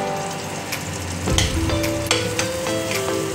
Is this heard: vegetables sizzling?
yes